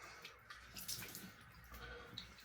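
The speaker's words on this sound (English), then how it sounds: "Warm water rinse. You want to make sure you get all of that soap off your face." Warm water splashing and dripping as a face is rinsed after shaving, soft close sloshes and trickles in short bursts, fairly quiet and without talk.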